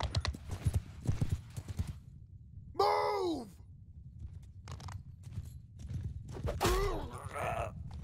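Cavalry horses in a video game clip-clop in quick footfalls, interrupted by a loud neigh and later a second whinny, with hooves continuing underneath.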